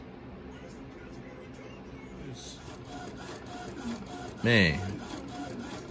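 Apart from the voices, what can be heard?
sublimation printer printing face mask transfers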